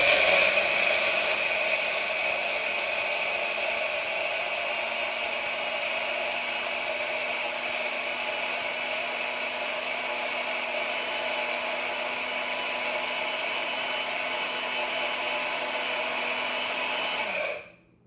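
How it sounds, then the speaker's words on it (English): An electric grain mill grinding six kinds of beans and grains into flour, a loud steady high whine with a constant hum that runs unbroken, then cuts off abruptly at the end. "When it sounds like it's not grinding up much anymore, then I'm thinking it's close to where I want it."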